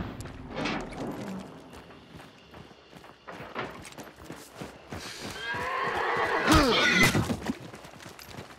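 A horse neighs and whinnies in the video game Hunt: Showdown, with clip-clopping hooves and footsteps around it, the loudest whinny rising near the end over a moderately quiet background.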